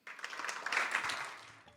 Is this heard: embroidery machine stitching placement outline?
no